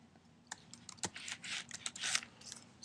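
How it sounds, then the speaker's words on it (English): Keys clatter on a Mac computer keyboard in a quick, uneven run of close taps while text is entered in Pages, with short bursts and brief pauses and no voices. "Type in the author."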